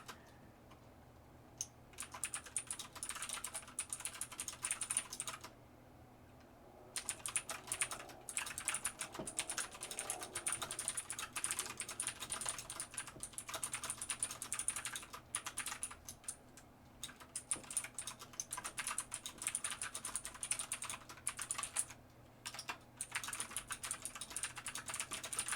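Rapid clicking keystrokes on a computer keyboard patter in uneven bursts, fairly close and quiet, with a few brief pauses between stretches of typing and no speech.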